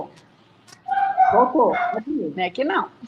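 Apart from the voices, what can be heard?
dog barking somewhere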